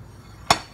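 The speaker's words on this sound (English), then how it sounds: "I'm just barely hitting the slide hammer right now" A single light tap of a slide hammer on a pilot bearing puller, working on a Nissan 240SX KA24DE pilot bushing: one short, sharp metallic knock, close and fairly quiet, ringing off briefly.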